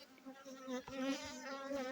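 Honey bees buzzing around beehive boxes at an apiary in Saudi Arabia, a dense, close, continuous droning hum with several insects swirling and rising and falling in pitch.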